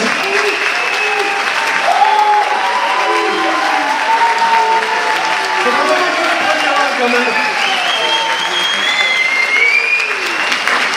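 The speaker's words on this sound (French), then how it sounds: "Je vous demande d'applaudir très très fort Sébastien Laurent" Loud applause from a crowd at the opening ceremony of a video game convention in Toulouse, steady and sustained throughout, with voices and cheering mixed into the clapping.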